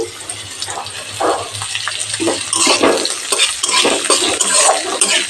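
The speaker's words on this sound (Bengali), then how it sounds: "একটা বড় সাইজের পেঁয়াজ কুচি অ্যাড করে দিচ্ছি" Chopped onion, one large onion, goes into hot oil with light golden garlic in a pan and is stirred, giving wet sizzling and scraping of a spoon against the pan in uneven bursts.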